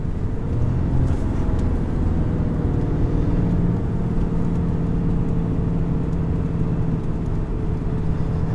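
A 2020 Ram 3500HD Laramie High Output Cummins diesel pickup pulls hard under load, making a loud, steady, low engine drone heard from inside the cab that holds evenly throughout.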